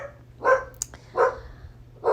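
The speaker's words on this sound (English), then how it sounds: "That's Mr. Finley barking at a plane flying by." A dog barks three times in evenly spaced bursts, fairly close and moderately loud, over a low background hum.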